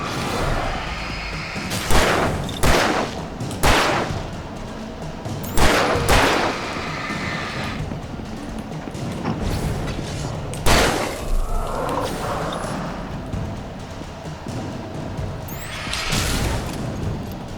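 Gunfire in Alan Wake Remastered: sharp, loud shots crack out singly and in short clusters, spaced across the stretch with heavy thuds between, over a constant murky game ambience.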